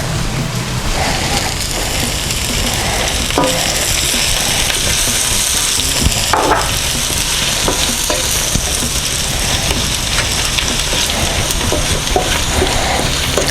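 Onions cooked down with sugar and bacon for bacon jam sizzle steadily in a pan on low heat, a dense continuous frying hiss with scattered spoon scrapes and pops, close and loud throughout.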